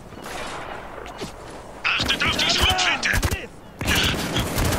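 Bursts of automatic gunfire from a weapon in the video game Spec Ops The Line, rapid loud volleys in two stretches with a quieter gap between them and a few scattered earlier shots.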